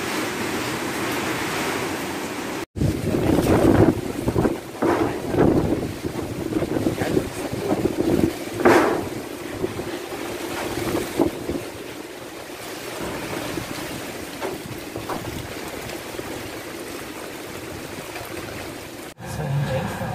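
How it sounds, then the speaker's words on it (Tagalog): Strong typhoon wind in Quinapondan, Eastern Samar roars and gusts against the microphone, rising and falling in loud buffeting bursts with a brief sharp dropout early on. "Napakalakas talaga ng hangin dito ngayon sa amin."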